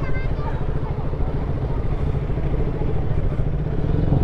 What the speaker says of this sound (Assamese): হয় ট্ৰেফিক হৈ আছে ইয়াত, ইমান ডাঙৰকৈ দিছে, ফুল হৈ আছে বাইক গাড়ী